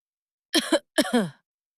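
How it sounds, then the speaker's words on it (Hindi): Two short, light coughs or throat-clearing bursts from someone out of sight behind a closed door, close together and clear against silence. "अचानक अंदर से हल्की सी खांसी की आवाज आई।"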